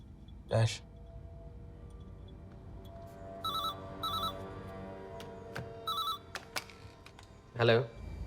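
A telephone rings in short repeated electronic bursts, three or four rings spaced across the clip over a quiet room tone, with brief voices at the start and end.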